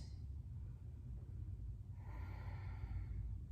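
Slow, deep breathing during a yoga twist, a long airy exhale audible over a low rumble of room noise, close and fairly quiet.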